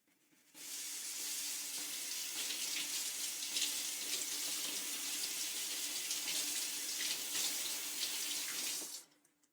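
A kitchen tap runs steadily for about eight seconds while something is rinsed under it, a close, even hiss of water that starts and stops abruptly.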